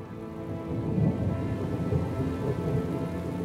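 Steady rain falls during a thunderstorm on farmland, a dense continuous wash with low rumbling underneath and no voices.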